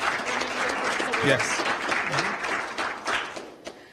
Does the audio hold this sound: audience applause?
yes